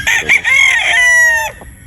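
A bulik gamecock rooster, a sweater Boston cross, gives a single close, loud crow lasting about a second and a half, its drawn-out harmonic call clear against a quiet background.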